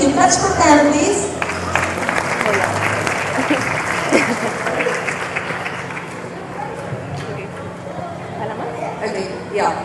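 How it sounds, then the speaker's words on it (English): Sustained applause from an audience at a school event, honoring the moderators, who are former students; dense steady clapping fills the room for the whole stretch with a crowd murmur underneath. "Claps for them, please."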